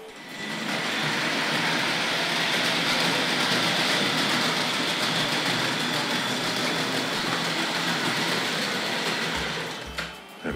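Model train running along a layout at a collectors' show, a steady whirring mechanical hum with faint rail clatter that holds level for about ten seconds, then drops off abruptly near the end.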